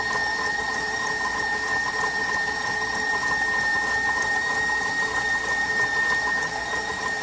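An electric mixer creams butter and sugar at high speed, a constant close whirring hum with a thin high-pitched motor whine that holds steady throughout.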